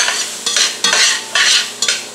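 Mushrooms, 150 g, fry in oil in a pan for a country-style chicken dish, with a utensil stirring them in rhythmic strokes about every half second over a loud, close sizzle.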